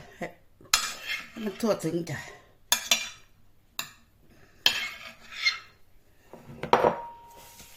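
Potato and broccoli mixture with cheese being stirred in a dish for a creamy baked casserole, giving repeated scraping clinks of utensil against the dish with brief speech between strokes.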